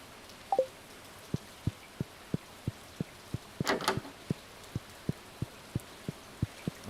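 Rain in the Stardew Valley video game, a faint steady patter under a regular ticking pulse, with one brief brighter splash partway through.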